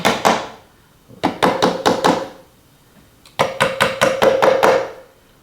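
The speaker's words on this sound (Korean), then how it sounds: "망치를 이용해서" A hammer taps on a wooden chair frame during reupholstery, sounding in three close bursts of rapid sharp wooden knocks separated by short pauses, loud and alone.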